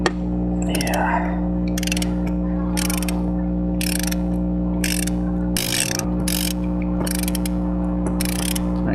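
A long breaker bar works on a deep-set spark plug in a Dodge Charger engine, making repeated metallic ratchet clicks in short bursts over a steady mechanical hum, close and fairly loud.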